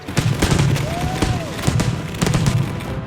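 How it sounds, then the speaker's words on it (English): Fireworks display with loud, rapid explosive bursts and crackling booms, plus a whistling rising shell, densely packed across a few seconds outdoors. "Jean's fireworks show has turned into a monster."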